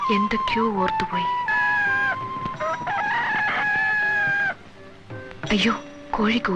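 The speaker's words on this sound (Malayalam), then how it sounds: "അയ്യോ, കോഴി കൂവി" A rooster crows in a Malayalam comedy film scene, its rising and falling calls arriving twice, near the start and again near the end, over a busy backdrop of film sound and music.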